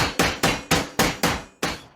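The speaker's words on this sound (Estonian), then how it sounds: "seejärel kõik haamriga" Cartoon hammering as a jetpack is knocked together: seven sharp, evenly paced metallic hammer blows, loud and close, each ringing briefly before the next strike.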